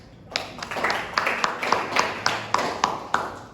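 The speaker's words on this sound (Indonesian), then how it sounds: "Tepuk tangan dulu untuk." Scattered applause from a small class during a biology microteaching simulation: a handful of distinct, fairly sharp claps spaced irregularly over a steady room hiss.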